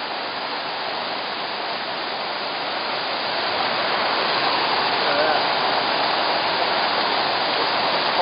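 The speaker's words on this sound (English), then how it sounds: "water goes down that waterfall, another one over here" Krka Falls in Croatia roars as a steady, dense wash of falling water that swells slightly louder midway and holds without a break.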